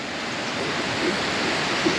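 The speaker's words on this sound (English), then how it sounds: "So this is the waterfall." A waterfall roars steadily nearby, a dense, even rush of falling water that stays loud and unbroken throughout.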